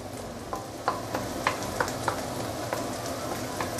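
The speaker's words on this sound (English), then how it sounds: "Let's saute the chili paste for a while" Chili paste sautéing in oil for a Muar-style patong assam fish, a steady close sizzle broken by about a dozen sharp clinks and scrapes of a spoon stirring the pan, with no voices.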